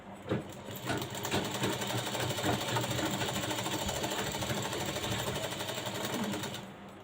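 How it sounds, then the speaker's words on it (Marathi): A sewing machine stitches a hook strip onto a blouse, its rapid needle clatter running continuously and loud at close range from start to finish. "अर्धा इंचानी इकडं शिलाई मारून घ्यायची आहे"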